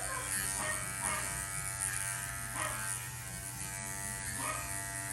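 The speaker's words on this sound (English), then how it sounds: "that is where we're going to start all the clipper work for everything" Electric clippers trimming a puppy's fur at a dog grooming session, a steady close buzzing hum that holds throughout, with the pitch dipping slightly each time the blades press into the coat.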